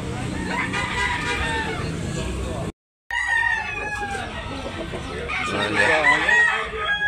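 Lemon Sweater F1 roosters crow on a farm in Tabunok, Talisay, Cebu, the calls rising near the end amid background chatter of people and a brief dropout.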